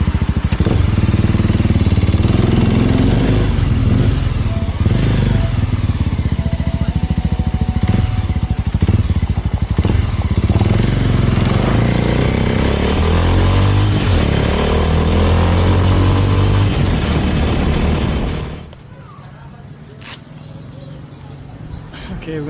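A small motorcycle touring along a road in Sulawesi, Indonesia, hums and rumbles loudly and steadily with wind noise and a shifting engine note, then cuts off abruptly near the end, leaving quiet ambience.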